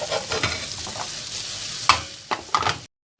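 Red mullet frying in a pan, a bright crackling sizzle with a few sharp clatters and scrapes as the fish is handled, close and fairly loud, cutting off abruptly to silence near the end, no talking.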